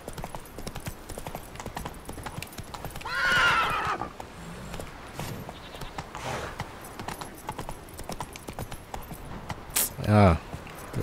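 Roach, a horse in The Witcher 3, clops its hooves steadily on stone steps and lets out two loud whinnies, one early and one near the end, while someone talks over it.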